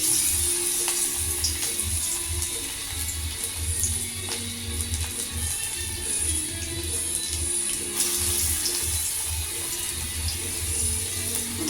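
Ash gourd pakoras fry in hot oil with a continuous bubbling sizzle and scattered crackles, steady and close throughout, over a low background rumble.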